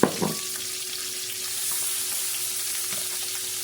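Onion and garlic dropped into a greased pan for a Malaysian Indian tofu dish, a loud initial crackle settling into steady frying sizzle close by, with faint stirring and no speech.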